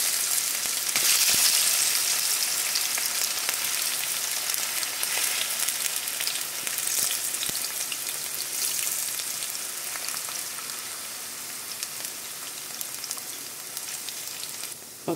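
Potatoes fry in a hot pan with a loud, continuous sizzle and crackle close up, easing slightly over time with no voices.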